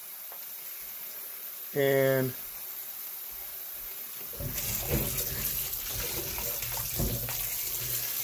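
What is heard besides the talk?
running tap water rinsing Granny Smith apples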